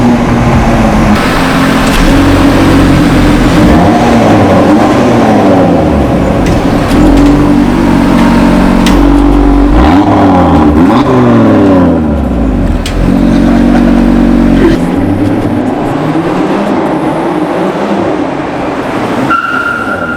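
A 2019 Audi RS3 Track Edition with an S-tronic dual-clutch gearbox accelerates hard, its engine loud and close, rising in pitch through repeated quick upshifts for about twenty seconds with no talk over it.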